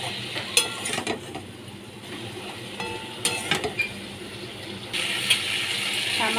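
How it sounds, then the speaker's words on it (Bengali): Water is poured into a pan of fish curry with potatoes and chana masala, bringing a splashing, sizzling wash over faint stirring and scraping clicks, with a louder pour near the end. "সামান্য একটু জল দিয়ে দিলাম।"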